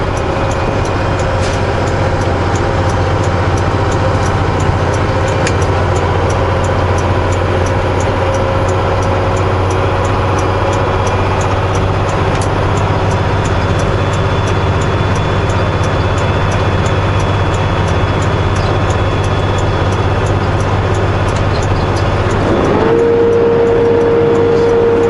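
A truck pulling a new set of trailers rolls downhill on a road, its engine a steady low drone with constant rumble and road noise, close and unbroken throughout, ending with a sustained tonal whine near the finish.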